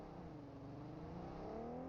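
A vehicle approaching in a battle royale video game, its engine rising steadily in pitch and loudness over a couple of seconds, heard faintly and alone.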